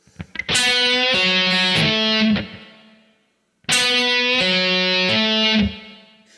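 A distorted electric guitar plays a triad twice, each a quick picked note followed by pull-off and hammer-on tones, loud and close, with a short silence between the two passes.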